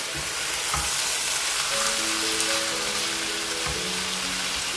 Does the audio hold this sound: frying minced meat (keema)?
yes